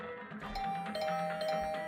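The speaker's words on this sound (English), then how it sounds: "brought back to the land of the living by the unrelenting ringing of my doorbell" A doorbell in The Hundred Line: Last Defense Academy rings on and on with a steady electronic tone over a hazy game soundtrack, moderately loud and continuous.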